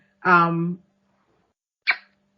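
A single sharp human sneeze close by, with a short voiced burst followed by a brief quieter second puff, otherwise silent.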